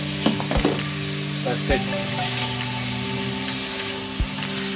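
Bay leaves sizzling in hot oil in a pot while cooking a meat green curry, a steady close frying hiss with a few clinks and knocks against the pot, and a voice speaks briefly near the start.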